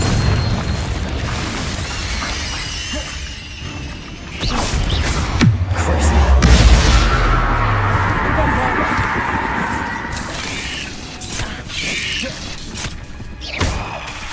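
Confringo and Bombarda spell blasts in Hogwarts Legacy, a loud run of booming, crashing impacts over a constant mechanical rumble, with a voice present during the action.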